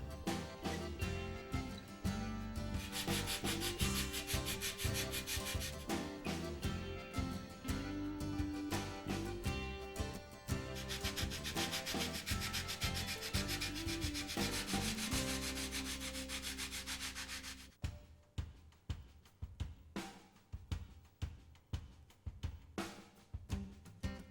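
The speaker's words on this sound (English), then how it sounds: "Now trim and sand the doublers flush with the fuselage sides." Balsa wood is sanded by hand with a steady, close rasping rub, continuous at first and then breaking into short separate strokes toward the end.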